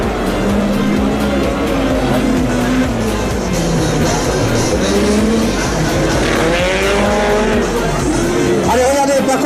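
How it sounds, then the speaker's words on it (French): A Peugeot 206 race car with a Honda engine screams past in close racing at Plouay, engines revving hard with tire squeal, while a commentator talks over the action. "la Peugeot 206 à moteur Honda"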